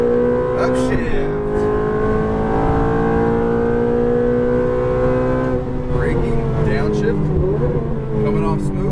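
A Ferrari F430 engine pulling hard around a track and upshifting. The loud, close engine drone climbs, drops sharply at several gear changes, then climbs again, with a voice speaking briefly over it.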